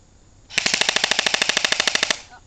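An airsoft submachine gun fires a single sustained full-auto burst of about sixteen rapid, evenly spaced, sharp mechanical shots, loud and close, with no talk over it.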